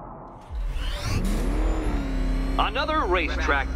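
Batmobile engine from Batman: Arkham Knight revving and driving, a loud sustained roar with rising pitch sweeps, and speech overlapping the engine partway through.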